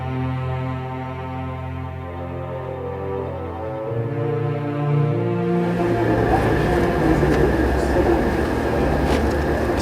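A long-distance train from Dunhuang to Turpan on the Silk Road rumbles along the rails, its steady low drone building into louder rattling clatter, with a person talking throughout.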